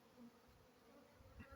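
Honey bees buzz inside an Apimaye beehive with a faint, low, steady hum. A soft knock comes near the end.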